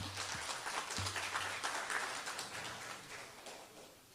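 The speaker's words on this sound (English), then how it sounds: "Can we please have a round of applause for her, just so she can come up, please?" Audience applause at a youth stakeholder engagement session in Johannesburg, a steady wash of clapping from a crowd that holds for several seconds and slowly fades, with a couple of low thumps near the start.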